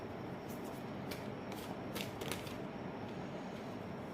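Tarot cards are shuffled by hand in a steady, continuous riffling patter, close and moderately loud, with no speech.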